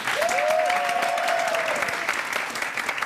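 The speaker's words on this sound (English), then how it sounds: "That is worth a round of applause." A live audience at a university quiz show applauds in a continuous, fairly loud wash of clapping, while a faint sustained whistle-like tone runs over the first half.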